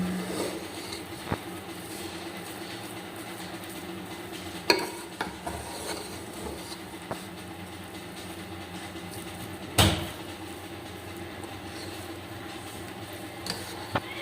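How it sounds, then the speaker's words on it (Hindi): Spoon stirring and scooping potato, pea and cauliflower rice pulao in a pot, a faint steady rustle with a few sharp clinks of metal on the pot, no one speaking. "अब इसमें हम चम्मच लगा के दिखाते हैं आपको कैसे बने आलू, मटर और गोभी वाले चावल।"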